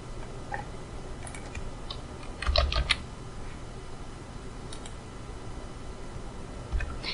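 Keys clatter in short irregular bursts as someone types on a computer keyboard while creating a new Python file, with a faint steady hum beneath and no talking.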